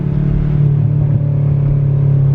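A 2000 Honda Civic Si EM1 engine revs steadily with a strong, loud, buzzing drone heard close up, holding at an even pitch without any voices.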